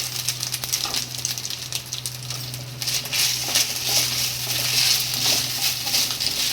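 Ginger paste frying in ghee with cashews and raisins, a steady close sizzle and crackle with a low hum underneath, continuous throughout.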